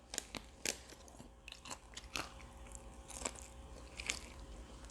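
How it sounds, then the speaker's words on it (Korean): Close, crisp bites and crunches of Puradak fried chicken drumstick cartilage, several sharp cracks over about five seconds with chewing between them and no talk. "끝에 오독뼈를 이렇게 씩, 딱 잘라."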